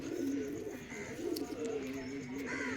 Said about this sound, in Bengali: দাদার বাড়ি আর একটা মাদি পায়রা দেখাচ্ছে